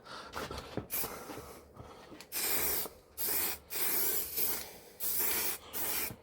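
A spray nozzle blasts cleaning fluid over Yamaha YBR motorcycle parts, including stainless exhaust pieces: a few light rustles, then five long, loud hissing bursts separated by brief pauses.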